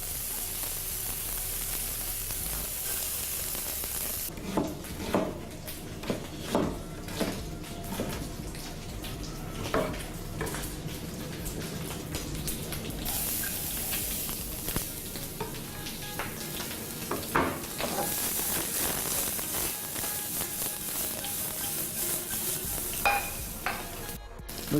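Shrimp sizzle in hot oil in a pan, a continuous bright hiss punctuated by several sharp crackles and knocks from stirring or utensils, close and steady for the whole stretch.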